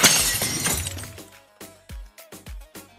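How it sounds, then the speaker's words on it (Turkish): Glass shattering loudly in one burst, followed by several sharp separate tinkling pieces of glass hitting the floor, close by and with no talk. "Cam kırıldı."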